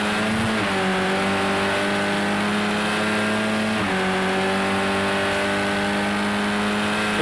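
Race cars in the Project Cars 2 racing game at Oulton Park drive hard, loud and continuous, with engines holding high revs, a shift near the start and another drop and climb in pitch midway, with no talk.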